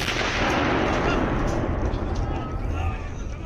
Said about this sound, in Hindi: ये 105 मिलीमीटर आर्टिलरी गन है और जब इस गन से गोला निकलता है